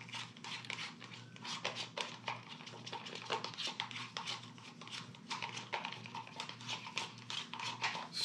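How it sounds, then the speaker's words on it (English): Epoxy resin and hardener stirred together in a container in an archtop guitar workshop, the stick scraping around the container's sides: close, steady run of quick scraping and tapping strokes over a low constant hum, with no talking. "scraping the side to make sure I've got all the resin mixed with all the hardener"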